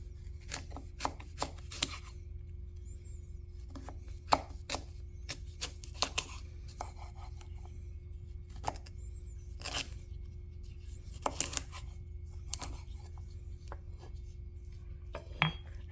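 A knife cuts through a green-stage California Romeat mango on a board, producing scattered sharp taps and soft slicing clicks at irregular intervals, close and fairly quiet over a low background hum, with no talking.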